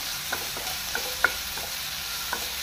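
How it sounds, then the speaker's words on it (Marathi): Chopped tomatoes frying in a pan beside onions, a continuous sizzle broken by a few sharp stirring clacks of the spoon hitting the pan, close and alone without speech. "शिजलेलो आसा तो ताका बरो आमी फ्राय करून घेवया"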